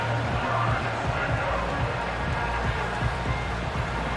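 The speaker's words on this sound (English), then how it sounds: "What about this crowd getting even louder before 3rd and 10?" Stadium crowd roar in the Madden NFL 25 football game between the Pittsburgh Steelers and Baltimore Ravens, a steady dense wash of cheering and babble that stays loud and unbroken throughout.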